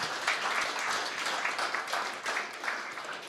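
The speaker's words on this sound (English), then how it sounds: "Dagnia Lejenia, please, a round of applause." Conference audience applauding at a startup event, a steady wash of clapping from a crowd, moderately loud and continuous for a few seconds.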